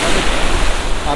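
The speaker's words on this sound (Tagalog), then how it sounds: "Pero lakas ng alon." Strong waves surging on the rocky shore at San Francisco Beach Campsite, a loud, continuous roar with wind buffeting the microphone and no clear gaps.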